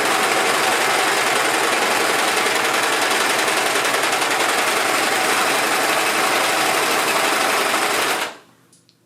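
A serger sewing machine stitching a seam runs loud and continuous with a fast, even mechanical whir and knife chatter, then stops abruptly near the end.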